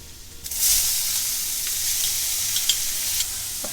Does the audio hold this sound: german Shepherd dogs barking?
no